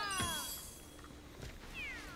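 A cat meow from the video game Super Mario 3D World sounds twice, short, high game-style mews, one early and one near the end, over quiet game background audio.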